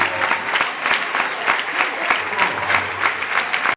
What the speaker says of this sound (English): The students will clap for you for the work you have done.